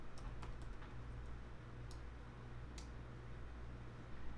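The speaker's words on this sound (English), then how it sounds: "so let me type that in now" Someone types on a computer keyboard, a few quick clustered key taps followed by a couple of isolated clicks, faint and close over a steady low background hum, with no talking.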